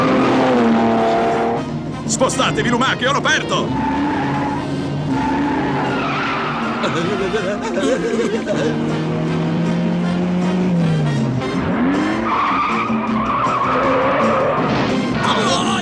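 A police car chasing a stolen car through city streets, tires skidding and engines roaring continuously and loudly, with someone shouting in Italian over the chase and music in the background.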